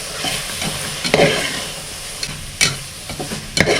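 Spices and masala for mutton biryani are stirred in a frying pan, giving a steady close sizzle broken by several sharp scraping strokes of the spoon against the pan.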